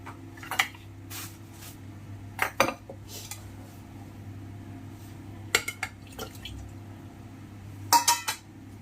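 Chicken stew ingredients going into a pressure cooker: scattered metallic clanks and clinks of utensils against the pot, in irregular bursts over a low steady hum, close by, with no talking.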